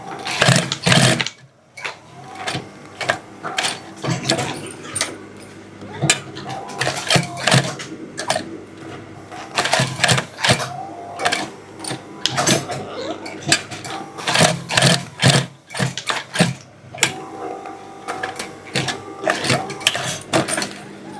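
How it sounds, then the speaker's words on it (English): Sewing machine stitching along the angled edges of a strap holder on mule shoes, a run of close, rapid mechanical bursts with short pauses between passes, loud and near, with no talking. "So right now, I'm going to be stitching the angles."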